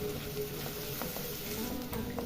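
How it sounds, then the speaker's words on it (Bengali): Chopped onion fries in melted butter and oil in a kadai, giving a soft, even sizzle with light crackles that hold steady through the brief moment. "পেঁয়াজটা একটু ভেজে নিব।"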